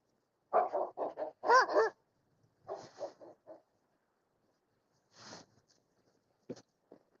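Several dogs barking in quick bursts, a cluster of sharp barks followed by sparser yips and single barks with quiet gaps between, fairly close outdoors.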